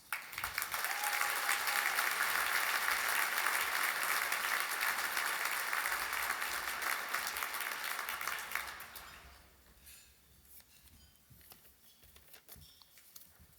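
An audience at a Boys & Girls Club foundation breakfast applauds loudly and steadily, the clapping holding strong for about nine seconds before thinning into a quiet tail of scattered claps.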